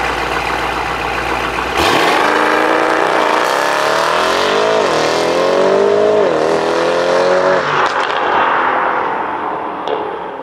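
A car launches hard on an empty road, its engine revving loudly and climbing through rising pitch with shifts, close and steady for several seconds before easing off.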